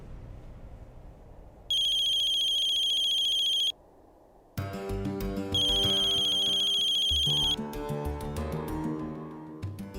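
A telephone rings while someone places a call, a bright electronic ringtone sounding in bursts with a pause between, followed by louder musical tones and a low background hum, with no talking.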